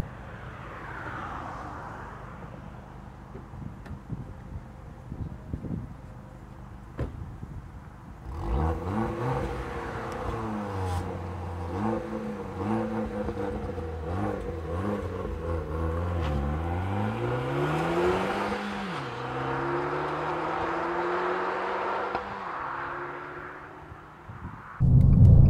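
An Abarth 595 Esseesse petrol hatchback accelerates hard through a curve, its engine rising and falling through several gear changes in a loud, continuous, close-up drone, with a quieter stretch before the throttle opens.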